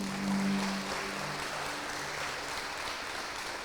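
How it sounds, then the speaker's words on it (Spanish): A church congregation applauds for the Lord during a Sunday service, a steady broadband clapping wash with a faint tonal hum beneath, holding level throughout. "Dale un fuerte aplauso al Señor."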